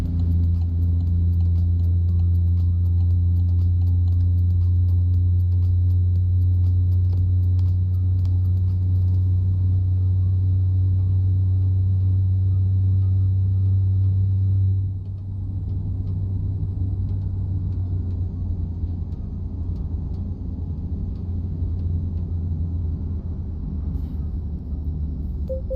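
A truck engine runs at high revs to gain speed, a loud, steady low rumble that drops slightly partway through and then carries on, with constant road noise in the cab.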